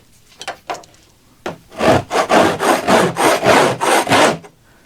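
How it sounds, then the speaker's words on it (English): A metal scraper drags repeatedly across a wooden boat compartment lid, giving about eight loud, rhythmic rasping strokes after a few short taps, close up with no talking. "let me get a scraper and see how easy or how hard this scrapes"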